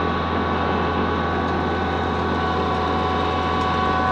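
A big MK Martin Meteor 60-inch inverted snow blower running continuously, a loud, steady engine drone with a whining mechanical tone and no pauses.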